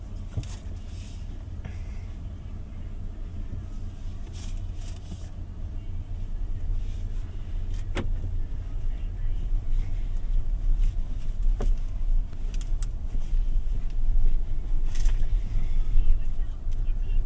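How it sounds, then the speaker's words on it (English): A 2025 BYD Shark 6 DMO pickup truck drives in quiet mode, giving a low, soft road and drivetrain rumble that slowly builds, with faint cabin ticks and clicks and no engine roar. "it is a very interesting experience driving a pickup truck in very quiet mode"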